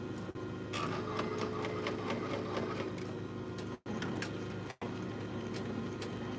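A Tajima embroidery machine stitches a baseball jacket at 820 RPM, making a fast, even mechanical chatter of needle strikes over a low motor hum, briefly interrupted twice by short gaps.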